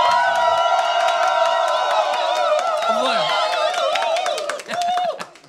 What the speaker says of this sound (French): s'il vous plaît, on peut s'applaudir très fort.